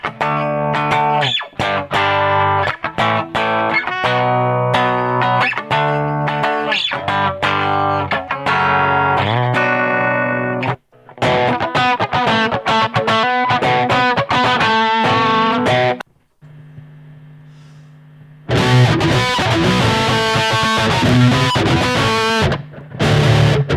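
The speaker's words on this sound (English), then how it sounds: "There's a set of 3 patches here which were like my most basic, clean, crunch, and heavy tones." A baritone guitar runs through a ZOOM GFX-5 multi-effects unit across clean, crunch and heavy distorted patches, loud riffs and sustained chords with short pauses between sections, no talk.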